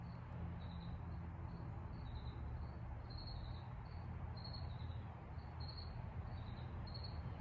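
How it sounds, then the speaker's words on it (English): Steady crickets chirp in repeated short pulses over a constant low background rumble, with no voices. "Hear the crickets?"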